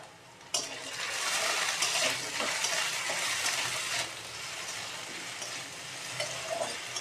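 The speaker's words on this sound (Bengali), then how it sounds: "আলুটা ভেজে নিচ্ছি।" Potatoes fry in a pan with a bright, hissing sizzle that swells as they are stirred, close and steady, easing slightly toward the end.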